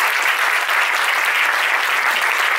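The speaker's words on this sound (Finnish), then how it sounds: "Me annan tässä nyt isot aplodit" Loud, dense audience applause at a startup pitching event in Tampere, a continuous wash of many hands clapping close by with no pauses.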